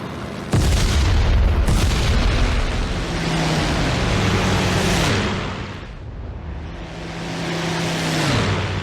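Bombs released from a plane explode in the IL-2 Battle of Moscow flight game, a loud booming blast followed by a long rumbling roar mixed with droning engine tones.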